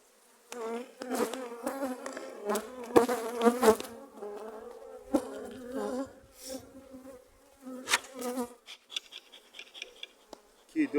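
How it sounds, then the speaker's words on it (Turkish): Dense buzzing of many honeybees swarms close by at an opened hive, rising and falling in bursts, with a faint voice now and then underneath. "Biraz sert bir arı."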